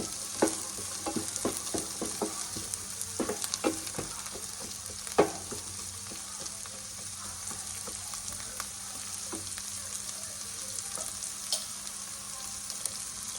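Pre-boiled green peas fry for pav bhaji in a pan with a constant loud sizzle. Frequent quick spoon clicks and scrapes run through it, and no one speaks.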